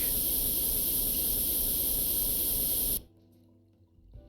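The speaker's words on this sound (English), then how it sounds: "Let's try and get in there and get a spray on as much as I can." A spray gun hisses steadily as it paints a Tiger tank being restored in the Tank Mechanic Simulator video game. The loud, broad hiss runs for about three seconds, then cuts off abruptly, leaving quiet background.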